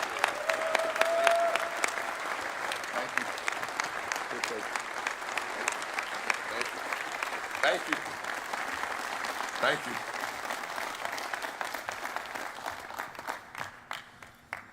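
Audience applause for the introduction of Maryland's new men's basketball head coach, a loud sustained clapping crowd that gradually fades, with someone briefly speaking over it.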